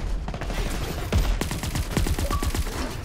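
Gunfire in The Division 2 video game, a dense fusillade of rapid overlapping shots and bursts, loud and close, with heavier impacts punctuating the constant crackle.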